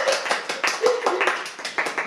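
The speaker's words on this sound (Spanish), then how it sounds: "Un aplauso, por favor" Scattered claps and taps at close range in a small group setting, uneven and sparse rather than a full ovation, with a brief voice-like tone mixed in.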